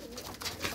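A white pigeon cooing among flying pigeons kept for sale, a soft, close, low warble repeated in two or three short phrases over faint background noise.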